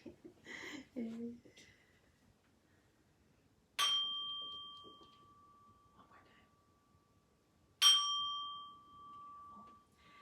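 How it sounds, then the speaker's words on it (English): Bell for a children's bunny yoga class struck twice, each a bright clear ding that rings on and slowly fades, with soft whispered voices heard before the first strike. "I'm about to ring my bell"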